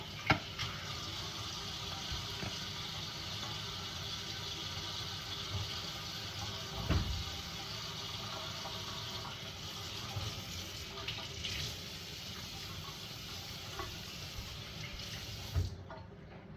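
Three tomatoes are washed under a running kitchen tap, a steady broadband rush of water hitting the sink that stays loud throughout, with brief splashes as the fruit passes under the stream.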